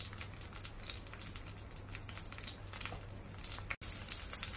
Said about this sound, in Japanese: この跳ねるっていうのはタコの中に油が入って水分が抜けていくっていう過程なんで